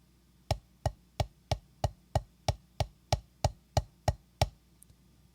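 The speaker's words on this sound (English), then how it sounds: "Now let's combine singles, doubles, and triples in sequence" Drumsticks play a steady sequence of singles, doubles and triples, around a dozen crisp evenly spaced strikes, close and clear against a quiet background.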